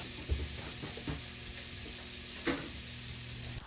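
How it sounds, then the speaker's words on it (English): Deer tenderloin rubbed with salt, pepper, garlic powder and onion powder sears in a very hot skillet, giving a steady close sizzle with a few louder pops and crackles. "drop it in a super hot skillet"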